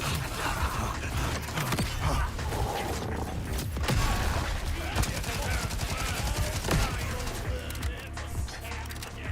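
Repeated bursts of explosions and gunfire-like blasts from vacuum grenades in the action game Amon Onslaughter, dense and continuous across the whole stretch, with clanking mechanical noise mixed in.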